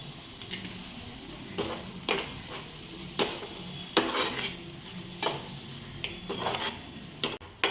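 A spoon scrapes and clinks around a pan in irregular strokes, stirring tomato and chilli sauce for soya chilli chunks over a soft sizzle in the background.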